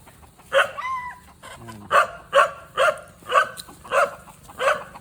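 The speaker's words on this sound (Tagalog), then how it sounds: "Ang kanyang mga alagang aso." Several dogs bark in a steady series of sharp, evenly spaced barks, fairly close, with a brief whine near the start.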